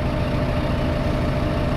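A tractor engine idles in Farming Simulator 15, a steady, loud low rumble that holds constant without variation for the whole short stretch.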